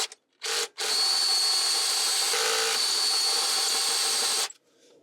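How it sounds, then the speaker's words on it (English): A 1 1/8-inch hole saw cuts through sheet metal in a 2019 Sprinter van during a diesel heater install, a loud steady whining grind of about four seconds, with a couple of brief starts before it and silence after. "this is where we're going to use the hole saw"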